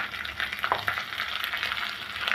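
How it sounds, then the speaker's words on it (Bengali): Garlic paste frying with onions in a pan for a shrimp curry, giving a steady, close, bright sizzle with a few soft stirring scrapes and no talking. "রসুনটা আমি একটু ভালো করে পেঁয়াজের সাথে ভেজে নিব"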